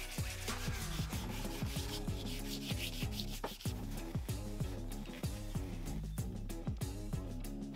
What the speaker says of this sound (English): Let's do a quick sanding of the handle.